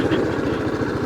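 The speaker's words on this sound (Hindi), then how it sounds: "ट्रैक्टर है वो आगे जा रहा है" A tractor engine chugs steadily as the tractor moves ahead across farmland in Kumrat Valley, a close, loud, pulsing mid-pitched drone with no voices.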